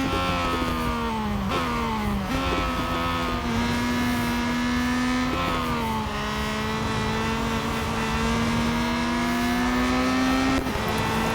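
A vintage Formula 1 car in Real Racing 3 holds a high, steady engine whine at a near-constant pitch, with a few brief gear-change dips and a droning, continuous tone.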